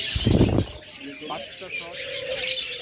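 Doves and other pet birds in a bird shop, with a few soft coos and light chirps close by, while someone talks over them throughout.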